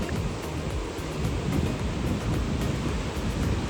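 Sea waves roll in at Ganpatipule beach in rainy weather, a continuous broad roar of surf and wind close by, steady and unbroken throughout.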